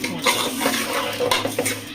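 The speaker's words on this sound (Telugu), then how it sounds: "ఒకసారి కలపండి." A spoon stirs turmeric and salt into mutton in a metal pot, giving close, irregular scraping and clinking against the pan with no voices.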